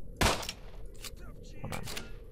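Gunfire in the S.T.A.L.K.E.R.: Shadow of Chernobyl video game: one sharp, loud shot near the start, then a second burst later, with groaning and talk in between.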